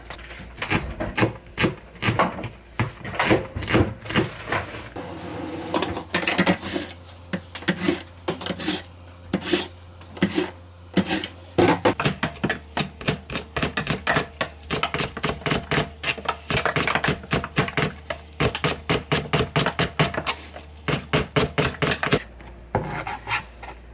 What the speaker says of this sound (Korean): 잘게 썰어